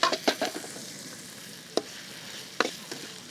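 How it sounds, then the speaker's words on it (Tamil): Green chillies fry in hot oil in a home kitchen, a soft sizzle broken by a few sharp spatula scrapes and clicks, close and otherwise quiet with no talk. "எண்ணெய் நல்லா சூடாயிடுச்சு பச்சை மிளகா போட்டுப்போம்"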